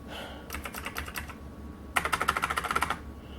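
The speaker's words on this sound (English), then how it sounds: "what other keys do we have that don't work?" Rapid keystrokes on a Rosewill RK-6000 computer keyboard that has a faulty key, coming in two close, crisp bursts of clicking separated by a short pause.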